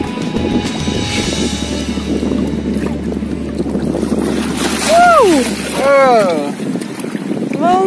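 Sea waves washing up on a beach during a seaside holiday with an infant, a steady rushing surf with wind buffeting the microphone and two louder swells near the end, under bursts of high vocal sounds.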